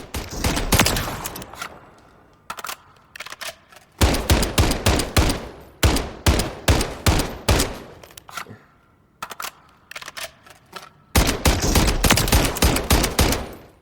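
BREN II DMR rifle firing in Call of Duty: Modern Warfare III, loud sharp shots in rapid bursts and quick strings separated by brief pauses, with no talking.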